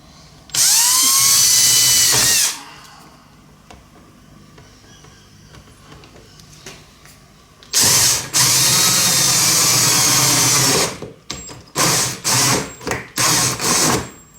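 Power drill boring a hole through a steel propane cylinder being turned into a foundry furnace: loud, high whining bursts at close range, one long run, a second longer run, then several short stop-start pulses.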